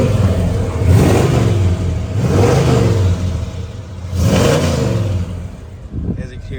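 A 1972 Chevrolet Chevelle's engine revved several times in close succession, each rev rising and falling in deep, loud surges before settling back to idle.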